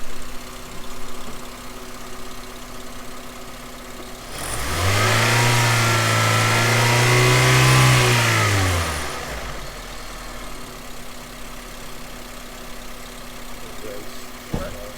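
A car engine at idle revs up for several seconds, a steady elevated roar, then settles back to a quiet idle, heard close by during an alternator output check.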